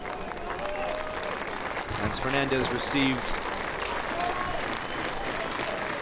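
Stadium crowd at a Spokane Velocity FC versus Chattanooga Red Wolves SC football match applauding a player, a steady broad wash of clapping with a commentator talking over it.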